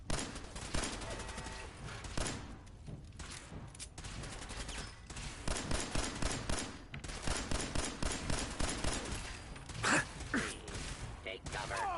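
Rapid gunfire rattles through a Fallout 4 firefight, dense bursts of shots rolling continuously and loudly for several seconds, with a voice calling out amid the shooting.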